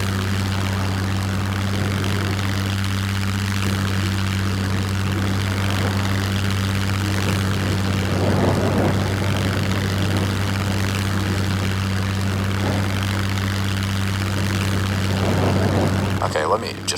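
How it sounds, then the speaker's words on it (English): A propeller airplane takes off in the survival video game SCUM, its engine droning loudly and steadily throughout with a strong low hum and a slight rise in intensity, no talk over it. "The takeoff can be a little slow compared to other planes"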